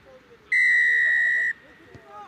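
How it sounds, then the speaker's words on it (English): A referee's whistle at a youth rugby match gives one loud, steady blast lasting about a second, with crowd noise and commentary chatter around it. "Referee blows his whistle."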